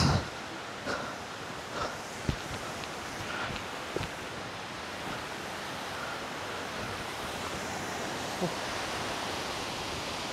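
Lauke waterfall in Nuwakot pours as a steady, dense roar of falling water, loud and continuous throughout, with a few faint knocks and brief bumps close by.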